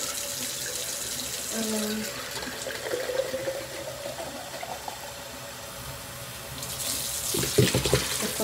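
Water runs from a sink tap as bottles are rinsed, a continuous splashing flow with clinks of handling and a brief spoken word, growing louder toward the end.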